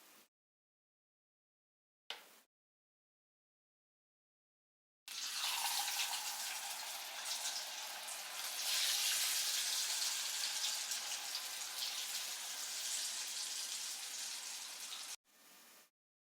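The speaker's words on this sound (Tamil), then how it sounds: "இது மாதிரி எல்லாத்தையும் பொரிச்சு எடுத்துருவோம்." Potatoes deep frying in hot oil, a dense steady hiss and crackle running loud and continuous for about ten seconds after brief short bursts, with no talking.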